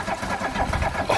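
A classic VW Scirocco engine, unstarted for six years, cranks and tries to catch, with a quick run of rhythmic churning pulses heard up close for just over a second.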